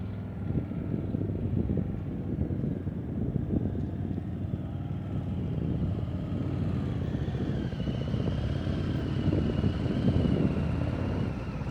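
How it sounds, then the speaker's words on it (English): A motorcycle rides at slow speed during an advanced low-speed riding practice session, its engine droning continuously with throttle rising and falling unevenly, mixed with wind rumble on the microphone. "You hear how his throttle's going up and down, up and down?"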